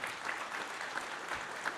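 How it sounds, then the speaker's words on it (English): Audience applause during a live talk event, a steady wash of clapping from a crowd that holds evenly for the whole short moment, with no voices on top. "Give a round of applause for that."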